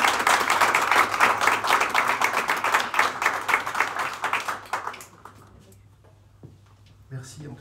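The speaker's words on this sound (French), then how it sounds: "On peut les applaudir." An audience applauds at a French business marketing event in Paris. Dense, loud clapping fills about five seconds, then thins and fades, with a voice near the end.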